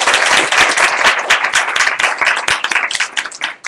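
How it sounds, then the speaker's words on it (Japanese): A seminar audience at a night tech event applauds a speaker: dense, lively clapping from a roomful of people, close and loud throughout, with no voices over it. "もう一度拍手をお願いします"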